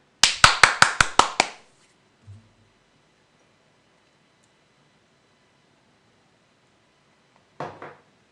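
A single person claps briskly about six times at the start of a Korean stock-market lecture, loud and close, then near silence with a faint brief rustle toward the end.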